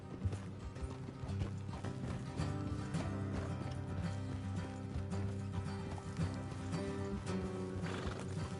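Horses in the game Red Dead Redemption 2 clip-clop steadily along a trail, hooves rhythmic and fairly close, with occasional whinnies over a busy mechanical background and soft music.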